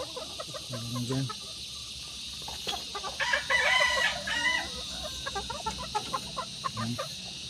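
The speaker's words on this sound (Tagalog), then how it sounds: "Meron din tayong nakakandito ng mga cockerels." Cockerels crow repeatedly among clucking hens in a backyard flock, loud and close, with a few short low calls, and a voice speaking briefly in the background.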